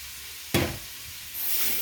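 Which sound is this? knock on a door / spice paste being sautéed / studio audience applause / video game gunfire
spice paste being sautéed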